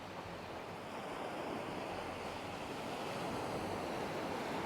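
Steady surf from waves rolling onto a beach on Koh Samet Island in Thailand in the early morning, a continuous close wash of breaking water with some wind noise on the microphone.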